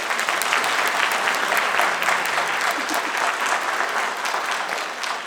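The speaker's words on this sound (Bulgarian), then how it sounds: "Моля, бурни аплодисменти за Николай." Audience at the Creator of the Year 2025 awards event applauding Nikolai Traykov, loud, dense clapping from a large crowd that holds steady and eases slightly toward the end.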